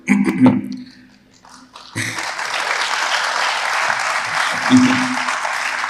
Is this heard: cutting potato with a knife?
no